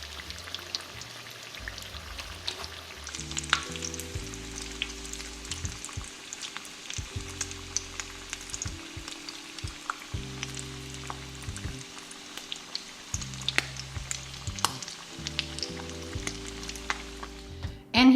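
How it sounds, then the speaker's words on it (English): A filled breakfast quesadilla fries in a pan, giving off a steady, close crackling sizzle with scattered pops that lasts the whole time, while a low tonal background hum runs underneath and no one speaks. "And here we have a perfectly fried and filled quesadilla."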